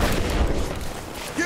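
Suppressing gunfire in the Rise of the Tomb Raider video game: a dense, loud wash of booming shots and rumble with no pauses, while a voice shouts over it.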